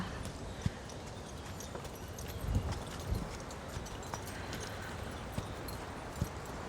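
Horse hooves clip-clop in a slow, uneven rhythm over a faint outdoor background, with occasional soft knocks and no clear speech.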